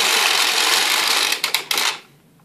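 A Bond USM knitting machine carriage is pushed across the needle bed to knit a row, giving a close, continuous grating rasp that ends in a few clicks before the sound stops.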